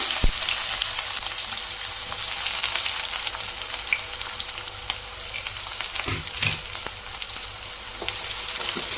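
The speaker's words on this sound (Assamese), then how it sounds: "এতিয়া মই পিঁয়াজখিনি দিম" Chopped onions fry in a pan for an Assamese-style masala macaroni pasta, giving a steady, close sizzle with faint crackles and occasional stirring scrapes throughout.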